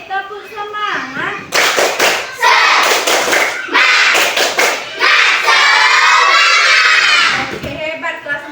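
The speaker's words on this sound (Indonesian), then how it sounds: "Coba kalau gitu kita tepuk semangat, tepuk semangat." A fourth-grade class of children doing a rhythmic clapping chant, bursts of sharp, patterned group claps mixed with the children's chanting voices, loud and close in a classroom.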